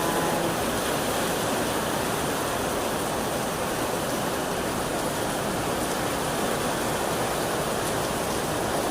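A strong downpour during May's first rain pours continuously and loudly nearby, an unbroken wash of hiss and rumble with no talking.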